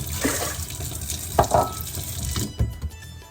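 Water pours and splashes into a pot of rice, one and a half glasses of water to one of rice, for cooking alongside a red lentil dahl; a close, moderate running trickle with a few clinks, no speech.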